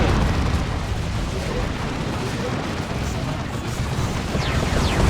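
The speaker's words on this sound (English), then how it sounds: "It's a good Demolition Cannon strike." Heavy, rumbling blasts from a Demolition Cannon strike in the Warhammer 40,000 strategy game Dawn of War 2 fill a loud, dense battle mix, with continuous booming and crackling debris and a commentator talking over it.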